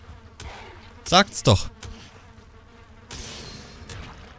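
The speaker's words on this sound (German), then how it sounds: "Man hätte es natürlich an den Fliegengeräuschen hören können." Flies buzzing near an enemy spawner in the video game Valheim, a loud, close burst of insect whine lasting about half a second, followed by fainter buzzing, with someone speaking briefly in German.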